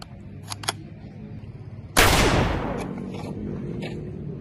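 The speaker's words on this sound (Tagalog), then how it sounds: "Putok ng baril yun, ah." A single loud gunshot cracks during a crime scene re-enactment. It follows a stretch of quiet background with a few faint clicks and leaves a long fading tail.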